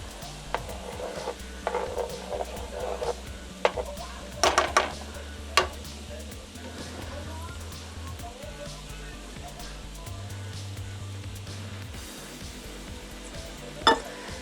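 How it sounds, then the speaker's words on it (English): Butter melting in a pan for a roux in a vegetarian chicken pot pie gives a soft, steady sizzle, broken by several sharp metallic clinks of a utensil against the pan. "I have to wait for this butter to be completely melted down."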